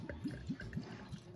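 Fuller's London Pride amber ale poured from a half-litre bottle, giving a few soft, close glugs and gurgles of liquid with little fizz.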